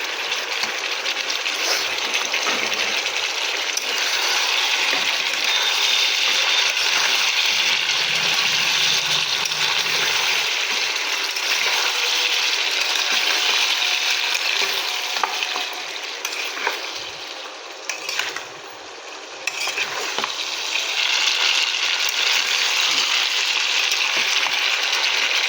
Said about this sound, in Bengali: এবারে এতে দিয়ে নেবো আলু আর কচুটাকে দিয়ে ভালোভাবে কষিয়ে নেব।